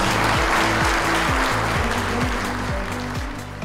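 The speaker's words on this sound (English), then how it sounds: "give a final hand of applause to Dr. Weston" An audience claps steadily and densely at the close of a public lecture, a continuous wash of applause with a low, stepping tonal pattern running underneath and fading slightly at the end.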